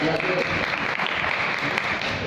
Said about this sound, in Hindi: एक बार तालियां दो।